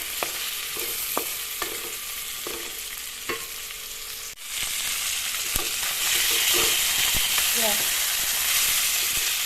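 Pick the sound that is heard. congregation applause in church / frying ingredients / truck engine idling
frying ingredients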